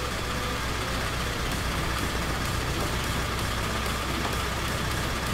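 A car engine idles steadily in a low, even drone while the driver works the clutch and shifts gear, with no talk during the clip.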